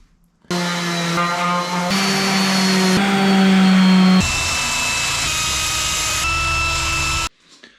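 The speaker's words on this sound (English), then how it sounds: "I'm gonna grind all this old repair out of here. Get her down to the fiberglass" A power grinder grinding old repair material down to the fiberglass on a boat, loud and close, running continuously for several seconds with shifting whine and rasp as the pressure on the surface changes, then cutting off abruptly.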